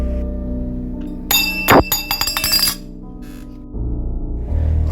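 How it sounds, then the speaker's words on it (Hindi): A steel drinking glass clatters and rings metallically, with a sharp impact followed by a burst of bouncing clinks lasting about a second and a half before quieter room tone returns. "इतने में आवाज़ आई कि किसी ने स्टील का गिलास फेंका है।"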